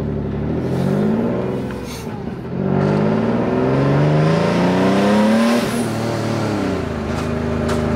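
A turbocharged Nissan 370Z with over 500 horsepower revs hard while warming its tires, engine pitch climbing in two long rising sweeps with a brief dip between, loud and close.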